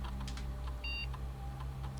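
A short electronic beep from the video game Blue Prince, a brief tonal bleep in the middle over a quiet, steady background hum.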